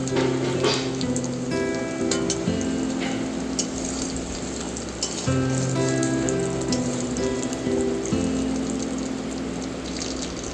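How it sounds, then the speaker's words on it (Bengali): Bay leaf, cumin seeds and panch phoron sizzling in hot oil for khichuri, a steady close crackling fry with scattered pops alongside a constant droning hum, no talking. "জিরে পাঁচ ফোড়ন একটু ভাজা ভাজা হয়ে গেছে"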